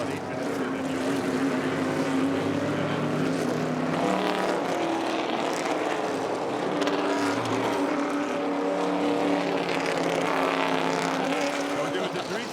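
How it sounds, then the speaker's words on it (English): Historic Trans Am race cars, including a 1970 Chevy Camaro and a Mustang, roar side by side past the start-finish line at Long Beach, their loud, continuous engine noise persisting throughout the clip. "That's the battle for the lead right there, side by side across the start-finish line right now"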